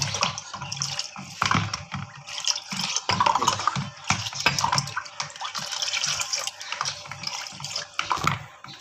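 Falsa berry juice being stirred and mixed with water in a container, giving irregular splashing, sloshing liquid sounds with soft knocks, close and fairly loud throughout, with no voices.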